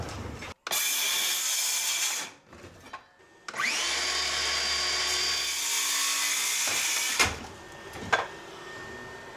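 A power saw set to an inch-and-a-half depth cuts through a rotted mobile home floor in two loud, close bursts of high whining buzz, separated by pauses and short knocks.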